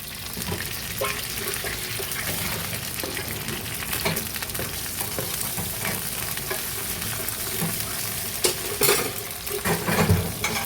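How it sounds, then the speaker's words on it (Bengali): Malabar spinach leaf and shrimp fritters fry in a pan with a steady, loud sizzle throughout, broken by occasional scrapes and clinks of a spatula stirring, with no talking. "এটা এখন ভাজা হতে থাক"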